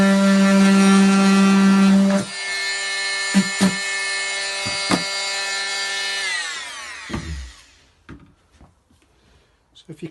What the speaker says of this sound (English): It's only on its slowest speed is the multi-tool.